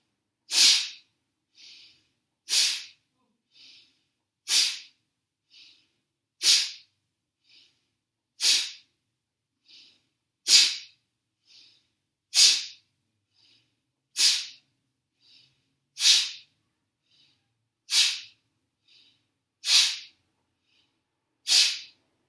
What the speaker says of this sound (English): Once you're done with 12 rounds of Bhastrika